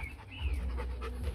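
A Rottweiler pants in short rapid breaths, close and steady, with low rumbling background noise and no speech.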